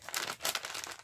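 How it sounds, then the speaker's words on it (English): A plastic bag crinkles as electric scissors are pulled out of it, a close, brief burst of crackling rustles for about a second. "I'll take it out of the bag."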